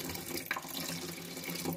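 A kitchen tap runs steadily into a sink while rinsing sesame seeds, a continuous close splashing hiss with no talk.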